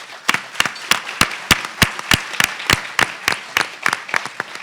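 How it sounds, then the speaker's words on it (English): A conference audience applauds women panelists at a reentry event: a steady rhythmic run of loud, close hand claps over a softer bed of wider crowd clapping. "So please give them a round of applause."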